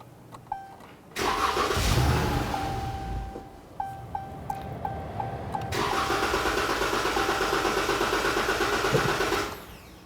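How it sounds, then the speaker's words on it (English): A 2011-2023 Dodge Charger with a 3.6L V6 is started with its fuel pump fuse removed. Relay clicks come first, then the engine cranks and catches briefly, falls quiet with more clicks, and restarts, running rough for several seconds before cutting out. "we're going to start it. We're going to let the vehicle run until the fuel pump system drains of fuel."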